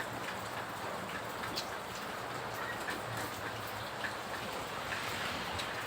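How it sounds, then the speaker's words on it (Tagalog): Continuous soft rain patters in the background, a steady diffuse hiss with occasional faint drips and a low rumble underneath. "Sakto umuulan."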